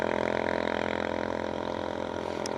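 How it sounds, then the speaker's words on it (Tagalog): A Yamaha Sniper 155 motorcycle on an Uma M9 tune sits at idle, its engine putting out a steady, even pulsing hum at close range with no talk over it. "So pakita ko sa inyo yung idle ng motor."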